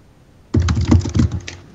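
Rapid computer keyboard typing comes through a voice chat line, a dense burst of close, loud key clatter starting abruptly after a quiet moment and running steadily for over a second.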